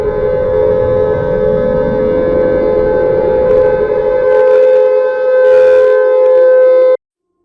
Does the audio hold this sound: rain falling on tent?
no